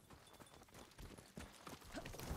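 Horses in stalls in the Ghost of Tsushima video game, heard as faint, close hoof clip-clops and shuffling under a soft ambient background.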